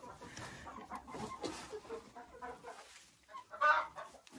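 Laying hens clucking softly in a chicken coop, low intermittent murmuring clucks with a slightly louder cluck near the end, faint and close.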